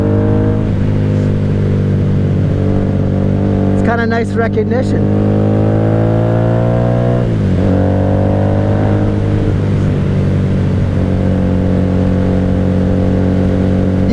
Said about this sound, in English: Lots of people nod and smile when they hear the Vance Hines pipes coming through on this V4 Magna